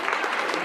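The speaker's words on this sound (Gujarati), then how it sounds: "આખી બોડીને, એમના બધા કારીગરોને આપણે જોરદાર તાળીઓથી વધાવી લઈશું" Applause from an audience at a Gujarati community gathering honouring a committee and its craftsmen: a brief, steady, dense patter of many hands clapping together, fairly even throughout.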